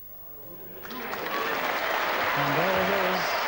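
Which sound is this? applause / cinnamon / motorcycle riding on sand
applause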